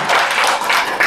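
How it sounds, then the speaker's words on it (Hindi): An audience claps for the Lord at a Hindi-language Christian worship gathering, a short dense burst of applause with no voices over it. "प्रभु के लिए एक अच्छा जोरदार बढ़िया वाला ताली बजा दें"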